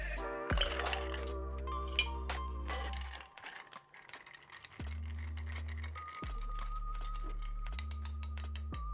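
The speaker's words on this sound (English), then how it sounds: "Now it's just time to add some ice and stir." Ice clinks and rattles against a mixing glass as a Scotch cocktail is stirred, an irregular run of light taps and clicks close by, with a steady hum underneath.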